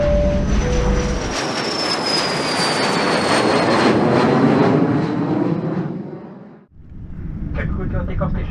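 A Singapore Airlines Boeing 787-10 taking off from Bangkok Airport runway 19, heard from inside the cabin: a loud, steady jet-engine roar with a high whine sliding downward, then a short dip before the rumble resumes.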